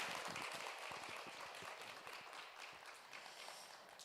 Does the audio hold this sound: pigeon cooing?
no